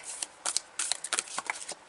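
A stiff tarot deck riffles and flicks through repeated short shuffling bursts, papery snaps of varying loudness heard up close with no voices over them.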